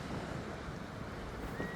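Strong wind buffets at Petone Beach, a low, steady, gusty rumble of wind noise with no talk.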